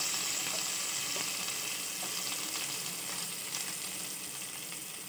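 Ginger and garlic pieces fry in a pan, giving a dense, continuous close sizzle with scattered crackles and faint stirring that stays loud and even throughout.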